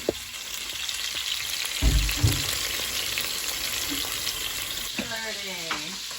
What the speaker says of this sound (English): So you just have to brown the chicken in here.